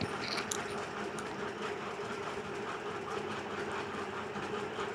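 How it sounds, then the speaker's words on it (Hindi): A sewing machine stitches a double-cup blouse cup, running in a continuous, even mechanical whir with a rapid clattering rhythm at moderate volume and no talk over it. "तो देखिए, एक पैर की इस तरह से हम सिलाई लगा लेंगे, इससे कटोरी की मजबूती बनी रहती है।"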